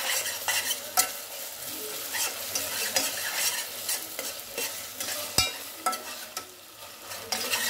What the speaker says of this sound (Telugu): ఇది పచ్చి వాసన పోయేదాకా బాగా వేయించాలి.